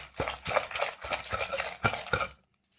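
Brinjal chutney with tamarind being ground by hand in a stone mortar, heard as close, rhythmic gritty grinding strokes in quick succession that stop abruptly before the end, with no voices.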